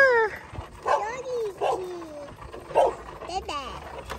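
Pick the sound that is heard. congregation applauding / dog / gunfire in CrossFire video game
dog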